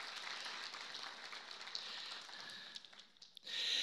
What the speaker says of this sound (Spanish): Pueden aplaudirle al Señor por eso.